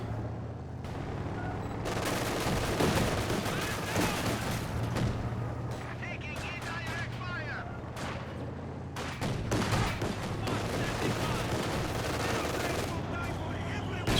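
Bursts of machine gun fire and other battle gunfire rattle through a Company of Heroes 2 match, loud and repeated, while a commentator talks over the action.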